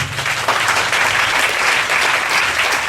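A church congregation breaks into loud, sustained applause, dense clapping that holds steady for several seconds with no voices on top.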